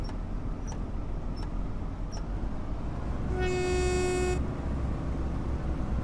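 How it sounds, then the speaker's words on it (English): A train in a train simulator game sounds a single steady horn blast lasting about a second over a constant low engine rumble, with a few faint clicks before it. "the train literally leapt into action like I've been stung by a wasp"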